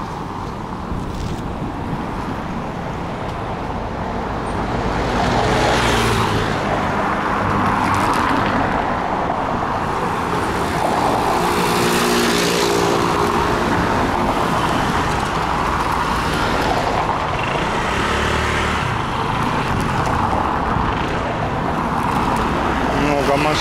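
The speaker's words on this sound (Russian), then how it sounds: "Машину вы видите, движение активное довольно." Cars pass steadily along a busy sunny street in Alanya, Turkey, a constant road roar with swelling pass-bys, and someone talks over it the whole time.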